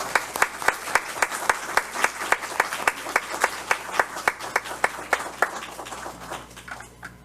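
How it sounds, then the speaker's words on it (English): Audience applause for certificate recipients at a school board meeting, a steady run of claps filling the room before fading out near the end. "let's give them all a great big round of applause"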